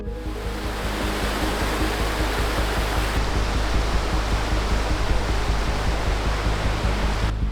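A creek pours steadily past a massive log jam diverted under a leaning bridge on an Alaska overland route, a dense, continuous close-up rush of water with no pauses and no voices.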